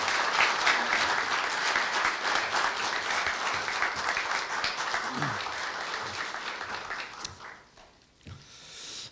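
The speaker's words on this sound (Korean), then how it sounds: "큰 박수로 맞이하여 주십시오." An audience applauds at a university staff retirement ceremony, with sustained dense clapping that fades out near the end, leaving a brief quieter tail.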